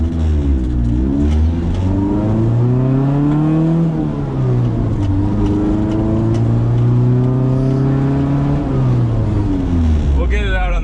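Honda-powered Mini Clubman estate car on a short test drive, its engine loud and close from inside the cabin, rising and falling steadily through gear changes with a continuous road rumble.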